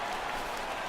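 A stadium crowd in MLB The Show 16 cheers and oohs as a fly ball is hit, a brief, dense wash of crowd noise with no break.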